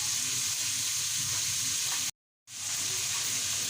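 Chicken chowmein ingredients with garlic paste being stirred and fried in a pan give a loud, steady sizzle and hiss that cuts out for a brief moment and then resumes.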